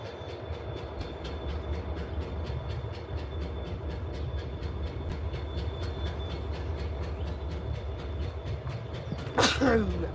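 A brief, close sneeze cuts in near the end over the steady low rumble of a passing freight train at a rail line in Chattanooga, Tennessee.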